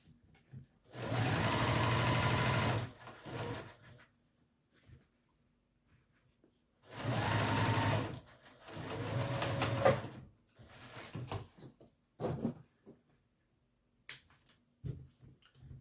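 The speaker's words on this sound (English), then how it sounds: "I'm just going to top stitch this" A sewing machine top stitches a bowler bag at a long stitch length, running close in a few bursts of a couple of seconds each with short stops and small clicks between.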